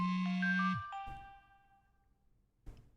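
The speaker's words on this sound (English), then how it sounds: "Gosh, the phone call." A phone in the video game Inhuman Resources gives a short electronic ringtone of a few descending chime notes that fade out, followed by a faint thump, with no talk.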